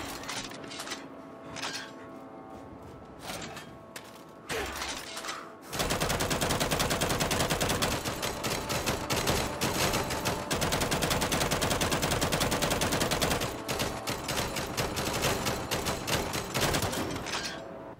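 Gunfire from a relic weapon in the Gears 5 video game starts as scattered sharp single shots, then turns into a dense, sustained automatic burst of rapid cracks that runs loudly through most of the clip.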